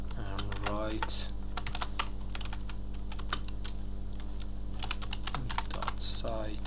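Computer keyboard typing while entering HTML code, steady soft key clicks in quick irregular bursts throughout, close and fairly quiet, with a low constant hum underneath.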